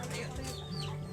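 Native chickens cluck softly and flap their wings as they settle in to roost for the evening, a steady cluster of low clucks and rustling close by with no talk.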